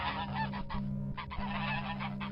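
Canada goose honking, a run of loud, close, nasal honks in quick succession with brief gaps, alone without talk.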